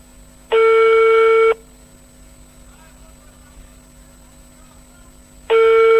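A telephone rings unanswered at a Gazipur cottage industry trade fair, two loud electronic ring bursts about five seconds apart over quiet background murmur.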